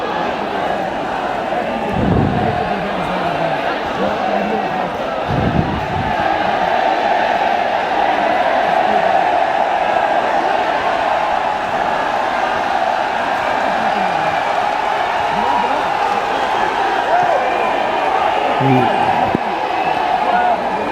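A crowd of protesters gathers outside Parliament, a steady loud murmur of many voices with occasional thumps and shouts, while a reporter talks close over the din throughout.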